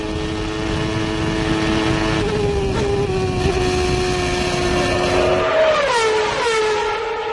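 Formula 1 cars from 1993, including Schumacher's Benetton and a McLaren, scream past at high revs, with a sustained whining engine note and a sharp pitch drop as one car passes close near the end.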